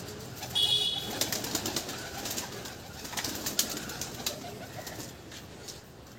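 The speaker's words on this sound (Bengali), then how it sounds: "এই যে পায়রা, টেডি পায়রা দেখুন" Teddy pigeons coo in a pigeon loft, soft low murmuring calls at moderate distance over a steady rustling ambience, with a few brief higher chirps and no talking.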